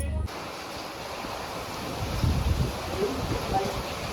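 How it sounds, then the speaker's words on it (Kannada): Wind and heavy rain roar steadily through a hailstorm in Bengaluru, a dense, continuous wash of noise with a few louder gusts toward the end and no voices. "ಗಾಳಿನೂ ಹಂಗೆ ಐತೆ, ಮಳೆನೂ ಹಂಗೆ ಐತೆ."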